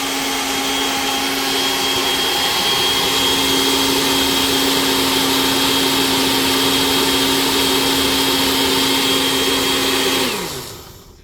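A blender whirs loudly and steadily, blending salad dressing until thick and creamy, a constant motor drone with a high whine that holds for about ten seconds before winding down at the end.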